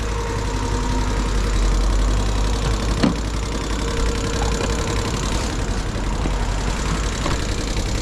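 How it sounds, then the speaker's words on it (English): A Honda C90 Cub motorcycle engine idles steadily close by, a continuous low putter with a faint knocking texture and one brief clank partway through, no voices over it. "Excellent, the old bike's going well"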